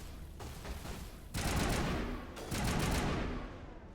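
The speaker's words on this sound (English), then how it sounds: "someone was shooting at me from over here" Bursts of rapid gunfire in the Mass Effect game, two loud fusillades of automatic shots, the first briefer, the second longer, with quieter single shots before them.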